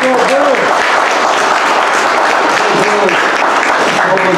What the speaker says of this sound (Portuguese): Salve de palmas para Salete Lima.